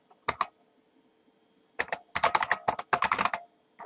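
Keys clatter on a computer keyboard as a password is typed, with a quick pair of taps, a pause, then a fast run of clicks in short bursts, close and clear, with no talk.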